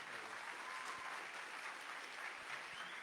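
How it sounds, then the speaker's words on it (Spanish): Steady audience applause at a Click 2025 event, a dense continuous wash of many hands clapping at moderate distance, fairly even in level from start to finish. "un aplauso fuerte, por favor"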